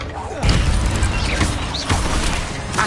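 A fire spell cast in the video game Hogwarts Legacy during a fight with spiders near a bridge: a sudden loud burst followed by crackling, whooshing effects and several thuds and impacts, with a dense, busy game mix underneath.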